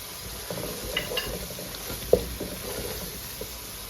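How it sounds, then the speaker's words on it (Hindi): Onions and red chili fry in a pan, giving a soft, steady sizzle with faint stirring scrapes and one brief clink of a utensil against the pan. "अब हम इसको थोड़ा सा भूनेंगे।"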